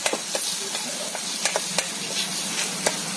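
Food frying in a pot over a wood fire with chili powder going in, a steady loud sizzle and hiss with scattered clinks and scrapes of a stirring spoon, close up and without voices.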